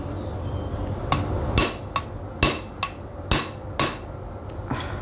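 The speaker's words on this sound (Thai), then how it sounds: "ใส่ลูกปืนตัวใหม่เข้าไป แล้วก็ตอกลงไปเลยนะครับ" A new bearing is driven into a water pump with a hammer, giving about eight sharp metallic strikes at an uneven pace, loud and close, with no talk.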